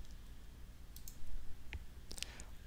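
Computer mouse clicks while working in a spreadsheet: a few faint, sharp clicks, one single then a quick cluster near the end, over quiet room hiss with no talk.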